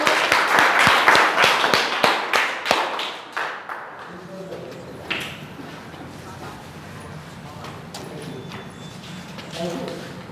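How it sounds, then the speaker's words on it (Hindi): Loud, rapid clapping from an audience at a school result celebration for class 10 and 12 students, tapering off over a few seconds into room murmur and scattered voices. "जोरदार तालियां बेटा इनके लिए।"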